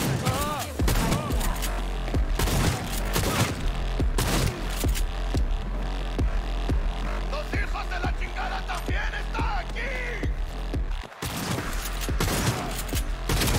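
Shotgun fire in the video game Cyberpunk 2077, a busy firefight with repeated sharp blasts over steady game noise and intermittent voices.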